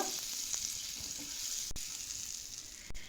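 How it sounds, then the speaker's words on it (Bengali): A teaspoon of butter melts in a pan with a soft, steady sizzle and crackle, close and fairly quiet, with a couple of faint clicks. "1 টিস্পুনের মতো বাটারটা একটু মেল্ট করে নেব"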